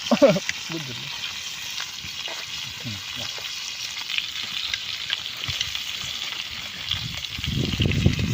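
Crabs frying in a pan outdoors give a steady, soft sizzle and hiss throughout, with occasional scrapes and stirring clatter and some brief voice sounds near the start.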